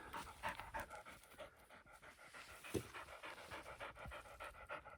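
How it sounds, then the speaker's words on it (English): A dog pants steadily and rhythmically on a woodland hike, quick breaths repeating close by over quiet forest surroundings, with no talking. "He's a good dog."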